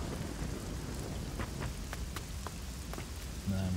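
Steady rain hiss with scattered sharp cracks of thunder from a storm in the video game Risen 2: Dark Waters, the downpour constant throughout with no talking.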